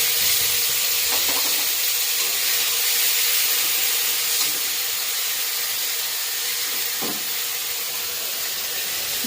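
Ginger and green chili sizzling in hot oil in a pan, a loud continuous crackling hiss that holds steady throughout, close up, with a couple of faint clinks.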